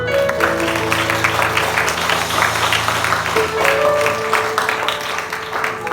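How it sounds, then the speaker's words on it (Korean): Congregation at a university semester-opening worship service giving a round of applause to God, steady crowd clapping throughout over a sustained organ or keyboard tone, fading slightly at the end. "영광의 박수 하나님께 올려드립니다."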